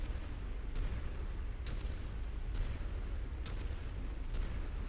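Quad gauss cannons on an Annihilator mech fire in Mechwarrior 5, four heavy booming shots spaced about a second apart over a constant loud rumbling background, with no talk.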